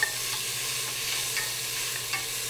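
Vegetables frying in very hot oil as a spoon stirs them, a steady close sizzle with soft scraping strokes and light taps running throughout, no voices.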